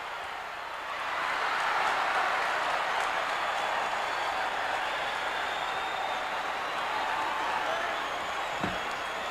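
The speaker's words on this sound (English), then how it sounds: "a huge roar from the crowd here shouts their approval" A classic professional wrestling arena crowd roars in sustained approval, a dense wall of cheering and yelling that swells early and holds loud throughout, with a brief thud near the end.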